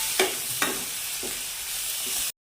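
A spoon scrapes and stirs turmeric and chili powder into sizzling soya sprouts rice in a pan. A few distinct stirring strokes sound over a steady close fry, which then cuts off abruptly.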